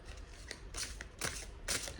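Tarot cards are shuffled and drawn in a few soft, close bursts of papery riffling and sliding, fairly quiet with short pauses between them.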